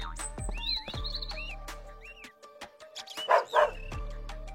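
Matty, a police dog, yips and barks in short bursts amid squeaky, whimpering cartoonish tones and a low hum, fairly close and lively, with no talking over it.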